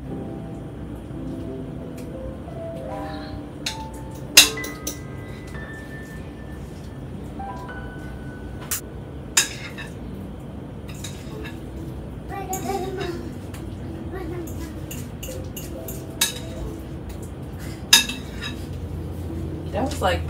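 A spoon clinks and scrapes against a bowl while sweet potato pie filling is mixed, with irregular sharp taps over a steady kitchen background and occasional speech.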